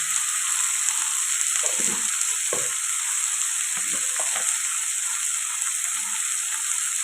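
Barbati beans (long beans) frying with turmeric and salt for a tomato curry, a steady close sizzle throughout with a few scraping stirs of the spoon in the pan.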